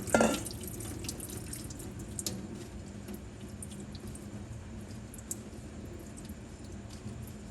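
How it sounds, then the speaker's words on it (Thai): Soaked squid tentacles tipped into a colander, a brief splash and pour at the start giving way to steady water draining and trickling through the strainer, close and continuous with faint drips. "จากนั้นเทใส่กระชอนค่ะ"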